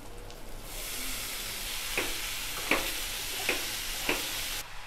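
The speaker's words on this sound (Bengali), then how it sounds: "ভালো করে মশলাটা কষে নেব" Spice masala sizzles in oil that has started to separate, a continuous close frying hiss with four or five distinct clinks and scrapes of a spatula stirring it, no voices present.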